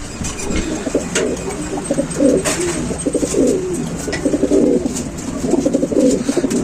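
Racing pigeons coo close by on their return from a race, with soft throaty rolling calls that overlap continuously and swell toward the end.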